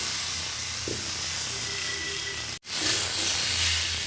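Vegetables sizzle in hot oil with chili powder and turmeric, a loud continuous hiss broken by a brief drop in sound partway through, then the sizzle resumes strongly.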